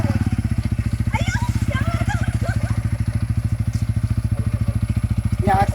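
A motorcycle engine idles with a fast, even low thump as someone learns to ride, the rhythmic putter running steadily close by while people talk briefly over it.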